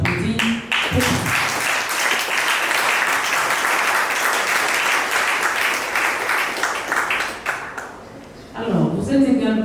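Guests at a civil wedding ceremony break into loud, close applause that swells quickly and holds steady, then thins out as voices return at the end.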